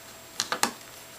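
Three quick, close taps on a touch-screen device while entering a text message, short sharp clicks spaced a fraction of a second apart against a steady quiet background hiss.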